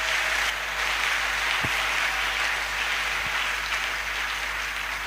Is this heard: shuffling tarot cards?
no